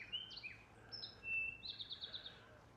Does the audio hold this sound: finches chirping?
yes